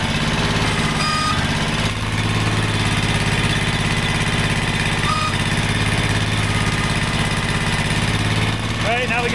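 The engine of a Ditch Witch 1820 trencher, an old unit under repair, runs at a steady loud idle with the hydraulics engaged, giving a continuous mechanical drone with a few faint higher whines and clanks.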